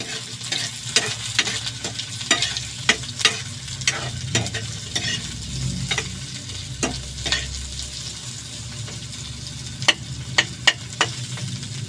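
Ginger and onion fry in a pan for bamboo adobo, a steady close sizzle broken by frequent sharp scrapes and clacks of a stirring utensil throughout, with no talking.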